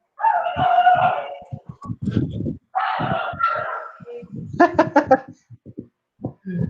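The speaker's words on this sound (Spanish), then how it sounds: "Es el perrito de Santi" A small dog barks and yips in quick, loud bursts close by, some sharp and high, with short pauses between volleys, in an indoor setting with no clear talking over it.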